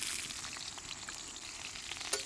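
Garlic frying in hot oil in a kadhai over a wood-fired chulha, a steady soft sizzle with a faint crackle and a brief sharper pop near the end, no voices.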